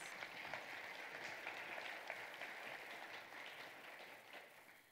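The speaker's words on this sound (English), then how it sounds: "Please give our President of Education Award winners a round of applause." A crowd at a school senior day awards ceremony applauds, a dense, even wash of clapping that holds steady for several seconds before easing slightly.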